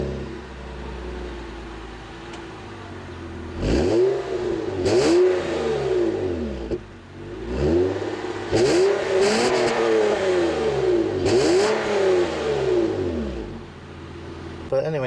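A 2002 Honda Odyssey EX minivan's engine revs up in several repeated surges, each climbing and falling back to idle, close and fairly loud, with some background voice or cabin noise.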